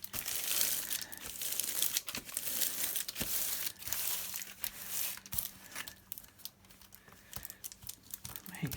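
Grease-proof paper crinkling and crumpling close by, a continuous run of dense crackles and rustles with sharper snaps scattered throughout, with no talking.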